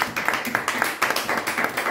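A church congregation claps and applauds together, a dense run of quick, irregular hand claps close by with no voices over it.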